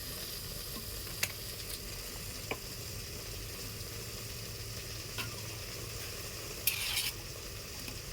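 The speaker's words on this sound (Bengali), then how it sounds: "কড়াইটা গরম হয়ে গেছে, সরষের তেল দিয়ে দিচ্ছি।" Mustard oil sizzles steadily in a hot wok, a continuous close hiss with a few sharp clicks and a brief scraping stir near the end.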